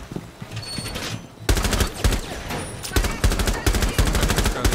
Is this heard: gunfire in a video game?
yes